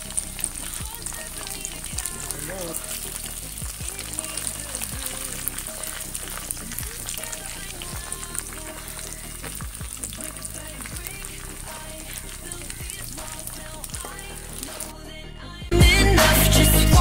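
Chicken pieces frying in oil for a Malabar-style kethel chicken fry give a steady, close sizzle and crackle throughout, ending in a sudden loud burst of rushing noise.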